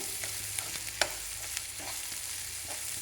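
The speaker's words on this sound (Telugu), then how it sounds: "చక్కగా ఉల్లిపాయ ఏగుతుందండి నూనె కొద్దిగా ఇందులో ఉల్లిపాయ ఏగటానికి ఇలా వేసే వేయాలి" Onion frying in a little oil in a pan, a soft steady sizzle with faint crackles and occasional stirring scrapes, low and close.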